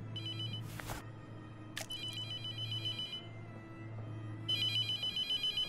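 A telephone rings in a horror video game, sending out repeated electronic trilling bursts with short gaps over a low, steady ambient hum and occasional brief clicks.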